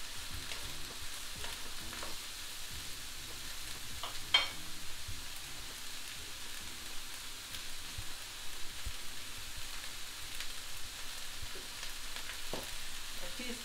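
Peppers and mushrooms frying with carrots in a pan, a steady soft sizzle with occasional scraping stirs and small clicks, fairly faint and continuous throughout.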